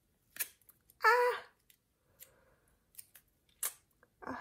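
Scissors cut paper while someone works on a Halloween-themed planner, producing a few sharp, short snips and crisp rustles separated by quiet gaps, close and clear.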